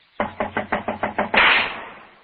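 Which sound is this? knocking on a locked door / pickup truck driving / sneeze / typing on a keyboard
knocking on a locked door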